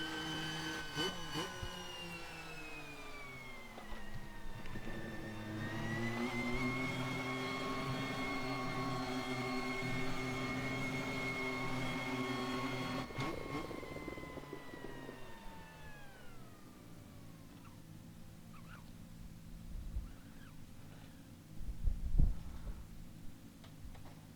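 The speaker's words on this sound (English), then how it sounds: "You can hear the turbo spool down. It's like a spaceship landing." In Assetto Corsa, the McLaren MP4/4 turbo race car gives a whining, harmonic engine and turbo note that sweeps downward as it spools down, tapering off to low idle rumbles and faint thumps, fairly quiet overall.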